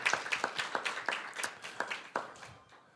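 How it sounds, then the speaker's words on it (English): An audience applauds graduating students at a school board meeting, scattered claps in a quick irregular rhythm that thins out toward the end, fairly close and without talk over it. "we can give them a round of applause too"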